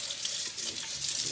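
Adobo chilies hit a hot pan and splatter, a bright, steady crackling sizzle, close and loud, with no talking.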